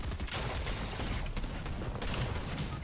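Fortnite gunfire crackles in rapid bursts, a dense clattering of shots with sharp transients over a continuous busy background, steady and fairly loud, no speech.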